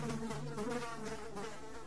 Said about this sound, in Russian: Ой, тут мухи.